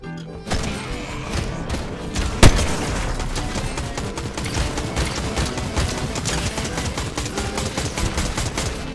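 A gun turret firing in the Fortnite video game, a steady run of rapid shots over layered game sound, with one sharp heavy impact early on.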